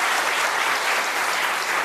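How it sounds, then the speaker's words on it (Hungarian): Dense, steady audience applause at a Hungarian radio cabaret show, broad and continuous for the whole stretch with no voices over it. "egy nagy tapsot kérek szépen"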